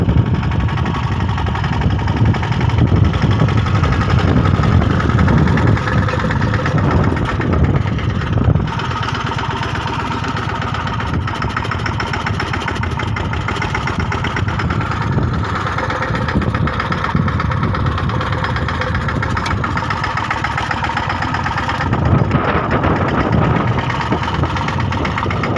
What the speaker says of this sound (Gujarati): આ જોવા ટ્રેક્ટર